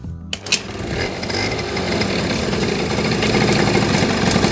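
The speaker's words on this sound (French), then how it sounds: "À partir de là, on allume le moteur." A small carburetted engine starts with a brief cough and then runs steadily at a raised idle, a loud, close, buzzing drone that holds an even pitch throughout, with no voices.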